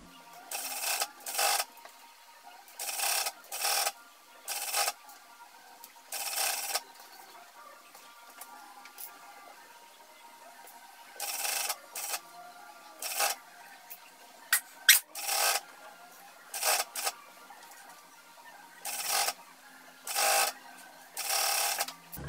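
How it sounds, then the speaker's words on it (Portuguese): A sewing machine stitches the side seam of a pajama top in repeated short bursts of running stitching separated by brief pauses, close and fairly loud with no talking. "Então eu vou costurar essa parte aqui. Costurar a lateral."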